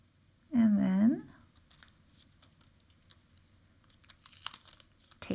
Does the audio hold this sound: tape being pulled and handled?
yes